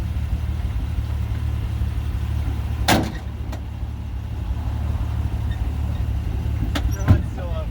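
Car engine running steadily while driving around the block after a rough-running problem, a constant low rumble throughout with a couple of brief knocks or thumps along the way.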